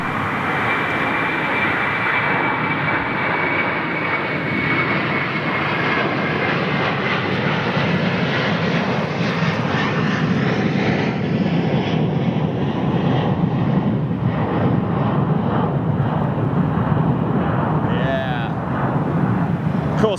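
A heavy jet airliner departs London Heathrow, a loud sustained roar with a whining high tone that swells and rumbles steadily as it climbs at low altitude, with no break throughout.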